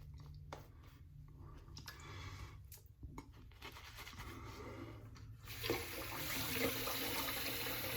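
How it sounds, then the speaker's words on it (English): A tap runs hot water in a steady, faint stream with a soft hiss in a quiet room, growing a little fuller toward the end. "I'm gonna run that water a little hotter"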